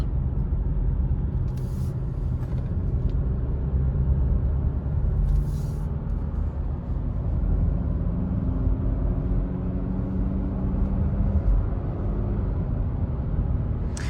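A Jaguar F-Pace D200 climbing the Arlberg mountain road in Austria, with a steady engine drone and broad road rumble from inside the cabin, continuous and fairly loud.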